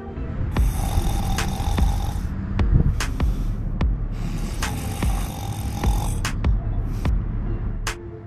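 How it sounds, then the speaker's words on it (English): A man sleeping outdoors on a street near the US-Mexico border snores loudly in slow, rhythmic rasping breaths, each drawn-out snore followed by a pause, against a faint background hum. "Listen up, some dude's snoring."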